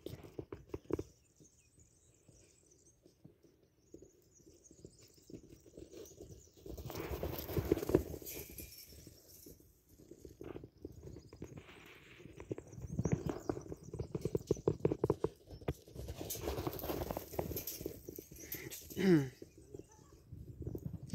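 Horse galloping at liberty in a training session, hoofbeats patter in bursts of varying loudness alongside someone speaking, with the pace picking up and dropping off.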